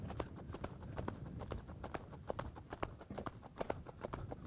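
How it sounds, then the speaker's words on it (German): A horse canters on the right rein in an arena, its hoofbeats a faint, quick rhythmic thudding in repeated groups of three, with soft background rustle. "Nochmal den Galopp auf der rechten Hand."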